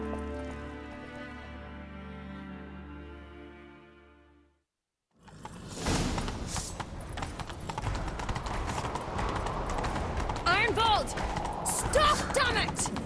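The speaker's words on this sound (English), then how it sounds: "Grab a horse, we'll chase him down." Horses galloping in the video game The Witcher 3 during a chase: after a few seconds of quiet musical tones, a loud, steady run of hoofbeats begins and continues with clatter and some game sounds layered over it.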